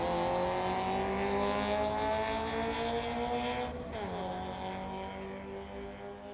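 A 2019 BMW and a 2001 Acura Integra race side by side on a street-legal drag strip, engines roaring loudly through the gears with a clear shift partway and a slow fade as they pull away.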